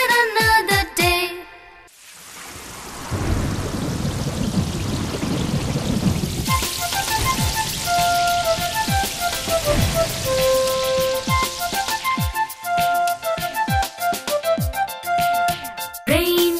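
Rain falls as a steady hiss of drops, alone at first and then continuing beneath a light plucked musical melody with soft percussive taps.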